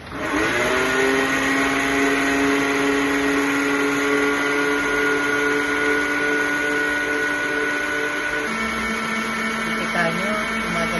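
An electric mixer blending mango smoothie ice cream runs as a steady, loud, high motor whine throughout, its pitch dropping slightly near the end, close up with no talk.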